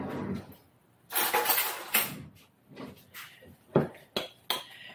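Marshmallows tipped from a cup into a bowl while making strawberry Jello pinwheels, heard as a few soft clattering knocks of dish and utensil, close and fairly quiet.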